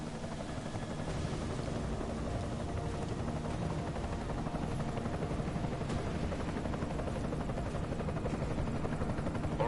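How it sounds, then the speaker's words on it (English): An enemy helicopter in the video game Deus Ex: Mankind Divided drones steadily with a loud, continuous rotor thrum that holds constant throughout. "Enemy helo sighted."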